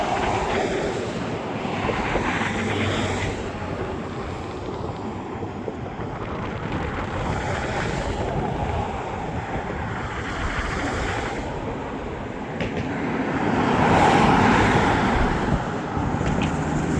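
Strong wind blows on the Oregon coast, a loud continuous roar buffeting the microphone that rises and falls in broad gusts and swells stronger near the end.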